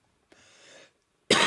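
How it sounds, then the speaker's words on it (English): A man watching a football match live, Everton against West Ham United, gives a short, close cough after a faint breathy rasp, with the final burst loud and sudden. "I'm going to cough a few times tonight."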